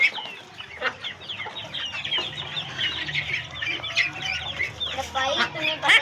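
Chickens clucking steadily on a farm among chicks and ducklings, a busy overlapping flock heard close with occasional wing flaps and voices talking over them.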